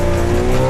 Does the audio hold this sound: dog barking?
no